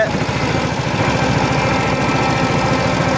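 Farm vehicle engine running unevenly, a loud close chugging rumble with an irregular, knocking pulse that never settles into a steady idle.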